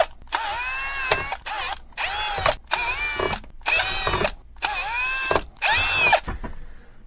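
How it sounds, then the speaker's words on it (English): A power drill bores holes in a tricopter drone frame in six separate whining bursts. Each burst is loud and close, with short pauses between them and no speech. "the big drill bit should follow the small drill bit"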